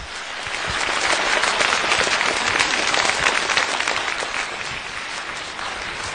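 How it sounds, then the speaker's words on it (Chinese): An audience bursts into loud, sustained applause to welcome the speaker Yi Zhongtian onto the stage at a public lecture in Wuxi. The clapping swells and then tapers slightly. "好，下面我们以热烈的掌声有请易先生登台为我们做精彩的讲演"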